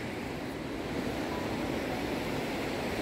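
Water from the Birthi waterfall rushes in a steady, broadband wash, fairly faint and unbroken, with no voices.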